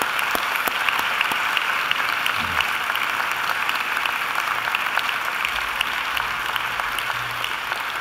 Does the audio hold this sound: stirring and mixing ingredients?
no